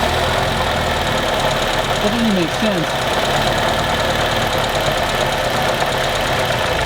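A 1976 BMW 2002, just restarted after sitting abandoned, idles low with a steady, rough mid-range engine drone and faint knocking throughout, with people talking briefly over it.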